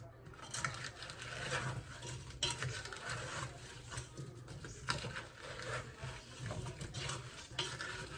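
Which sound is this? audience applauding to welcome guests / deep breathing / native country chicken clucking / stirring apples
stirring apples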